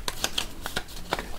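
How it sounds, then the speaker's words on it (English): Board game cards are shuffled by hand in a series of quick, crisp riffling bursts, close and moderately quiet, with no one talking. "We need to shuffle them thoroughly"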